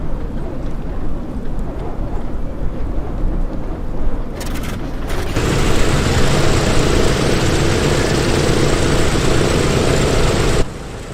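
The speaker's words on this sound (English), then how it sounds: "And then we can start up engine 3," A simulated DC-6 piston airliner's number 3 engine in Microsoft Flight Simulator cranks with a brief stutter, then catches and settles into a loud, steady propeller drone that runs on and drops slightly at the end.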